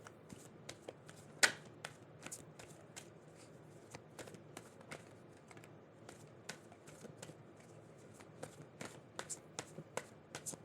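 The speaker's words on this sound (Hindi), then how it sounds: "मैं जब तक शफल कर रही हूँ आराम से सोच लीजिए।" Tarot cards shuffled by hand close up, making a long run of quick, crisp riffles and soft slaps in a fairly quiet room.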